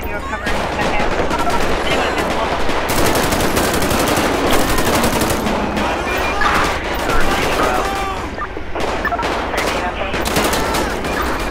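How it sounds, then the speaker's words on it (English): Sustained gunfire in a police shootout in the video game LSPDFR, with rapid automatic bursts and single shots overlapping continuously and loudly for the whole stretch, and a voice calling out over the shooting. "We have multiple shots fired."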